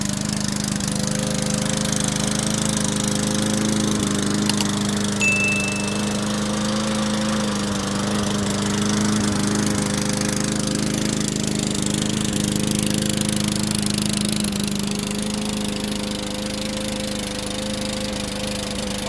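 An old lawn mower engine rebuilt from used parts runs steadily: a loud, continuous low chugging drone with a constant rhythmic idle throb, close by and uninterrupted for the whole stretch, no voices.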